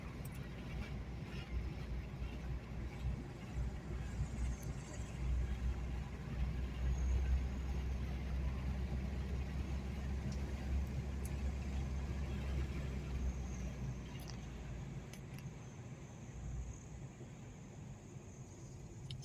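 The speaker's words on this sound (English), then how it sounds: "More driving, then pond." A car drives along a road near Richfield, Cuyahoga Falls and Kent, Ohio, its steady low engine and tire rumble heard from inside the cabin, holding constant and easing slightly toward the end.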